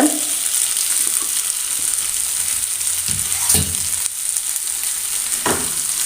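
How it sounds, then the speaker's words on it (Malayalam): Boiled potato being mixed in a hot pan gives a steady loud sizzle, with a few scraping spatula strokes coming through, and no voices. "ഉരുളക്കിഴങ്ങ് വേവിച്ചതാണ് അതുകൊണ്ട് ഒന്ന് കുറച്ച് നേരം ഒന്ന് നല്ലോണം ഒന്ന് മിക്സ് ചെയ്ത് എടുത്താൽ മതി"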